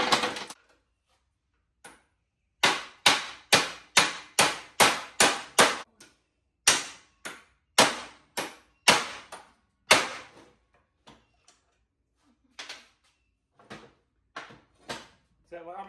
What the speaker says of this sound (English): we hammered and beat and heated and cooled and twisted and pried and prayed a little, and we got them out